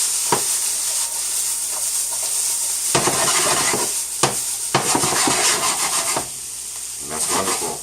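An Asian stir-fry with soy sauce is tossed in a hot pan, a steady close sizzle broken by several quick scraping, rustling tosses of the food.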